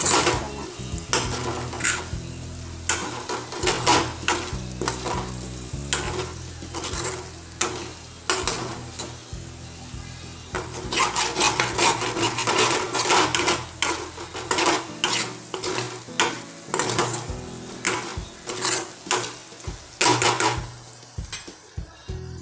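Potatoes fry with chili powder in a pan for aloo curry, a continuous sizzle broken by repeated scraping and clattering strokes of a spoon stirring against the pan, close and fairly loud throughout.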